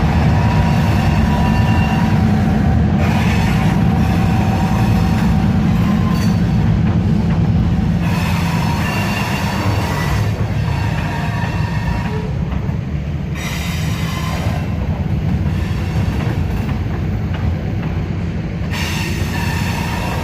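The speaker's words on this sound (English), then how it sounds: "Here comes that train." A loud train rolls past close by, a continuous heavy rumble of wheels on rails with intermittent metallic squeals and rhythmic clanks.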